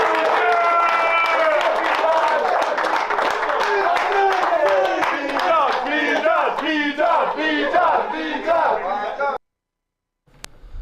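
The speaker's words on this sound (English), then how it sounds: "You just heard the University of Michigan basketball team clapping it up in the locker room after they got their win over Rutgers, 71-62." Michigan basketball players in the locker room after a win over Rutgers, loud group shouting and chanting mixed with clapping that runs about nine seconds and then cuts off abruptly.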